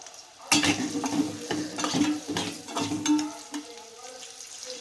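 Sliced onions sizzling in oil in a pan, with several scraping strokes from stirring heard up close and no voices over them.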